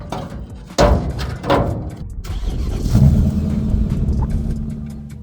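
A BMW M5 E39 with its S62 V8 starts with a sudden loud catch, then settles into a deep, rumbling idle with a couple of blips of revs, close and steady to the end.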